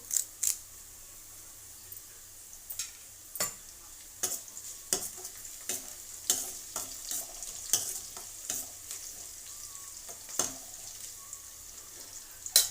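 Curry leaves and onions fry in oil for a bottle gourd milk curry under a soft, steady sizzle, broken by repeated sharp clicks and scrapes of stirring.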